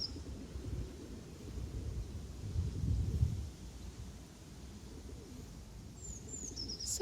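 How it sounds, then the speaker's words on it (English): Pigeons and other birds by Peckham Rye pond feeding on the ground, with soft low cooing and murmuring over a steady outdoor hum and a few faint higher chirps near the end. "Lots of birds eating off the ground."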